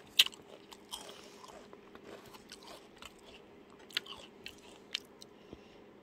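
Crunchy fried chicken bitten and chewed up close, with a sharp crisp bite near the start and scattered crackly crunches over steady chewing, without talk.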